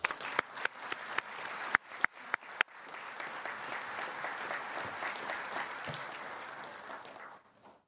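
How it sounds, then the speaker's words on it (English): Audience applause for newly promoted police officers at a police department promotions ceremony begins with a few sharp, scattered claps and swells into sustained clapping from a large indoor crowd, then tapers off at the end. "Let's give all of our promotional folks a big round of applause there."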